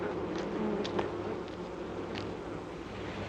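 Bees kept in hives in a 1957 wartime film scene buzz in a steady, dense drone, fairly loud and continuous, with a few brief louder passes of individual insects and no talk.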